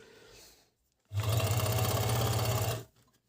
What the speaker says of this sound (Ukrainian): Надзвичайно тихий оверлок